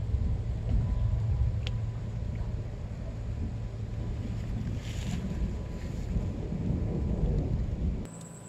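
Wind and rain roar outdoors during field fishing for climbing perch, with deep thunder rumbling throughout; a loud, steady, broadband wash of weather that eases slightly at the very end.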